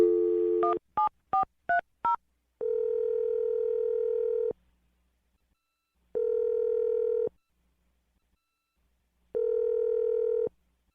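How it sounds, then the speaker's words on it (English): A quick run of six telephone keypad tones, followed by three long, evenly spaced ringback tones with silence between them. "I'm going to dial her phone number right now."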